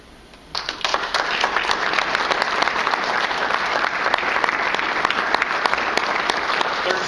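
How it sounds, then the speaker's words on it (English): Audience at a geocaching awards event breaks into a round of applause, quiet at first then a sudden swell of many hands clapping, loud and sustained for several seconds with scattered individual claps standing out. "you guys all deserve a round of applause because you're all part of the game"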